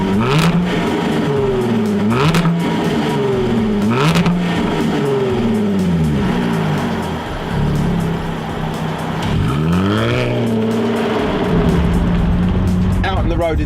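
A Jaguar F-Type sports car driven on the road, its engine revving hard through repeated gear changes with rising and falling pitch, loud and close throughout, with someone talking over it.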